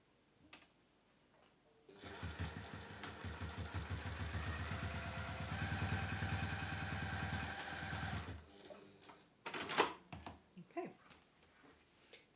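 A sewing machine stitches down through several fabric layers at the tip of a triangle on a double-sided carry case, running steadily for about six seconds with a fast buzzing rhythm, then stopping amid quieter handling noises.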